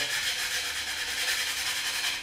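Sandpaper of about 180 grit rubbing melted piston material off a Mustang engine cylinder wall, a steady, close, rapid back-and-forth scratching hiss that runs without pause.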